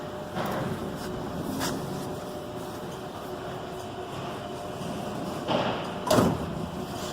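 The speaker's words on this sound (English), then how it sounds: "The door had initially some misalignment, but that alignment has been corrected. So the door now closes." The door of an Engel 240 fridge closes and latches after its misalignment was corrected. A couple of muffled thuds and a click sound over a constant rumbling background.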